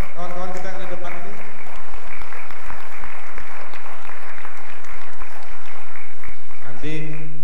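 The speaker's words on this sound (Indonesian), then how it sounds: "Aplaus lagi buat kawan-kawan kita yang di depan ini" An audience at a public debate for PERADI chair candidates bursts into loud, sustained applause, while someone speaks over the clapping at the start and again at the end.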